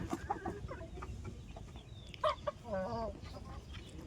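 Rhode Island Red hens and roosters, ten hens and two roosters kept for eggs, cluck close by in short bursts and a few sharper calls over low background noise.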